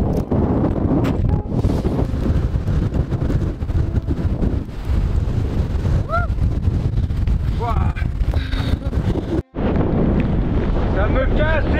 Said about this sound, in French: Ça me casse les couilles ce vent.